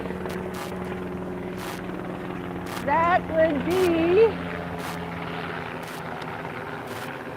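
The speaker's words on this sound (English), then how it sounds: "a military chopper flying low" Low-flying military helicopter passing overhead, a steady low rotor drone running throughout the clip beneath a woman's conversational speech.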